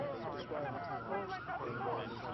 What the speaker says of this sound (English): You can hear a lot of sirens out on the street right now.